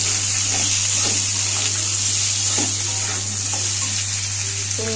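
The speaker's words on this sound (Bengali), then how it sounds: "আলু ভাজার মতো আলু দিয়েছি" Steady sizzling of potatoes and onions frying in a pan, a constant hiss with faint stirring clinks and a low hum underneath.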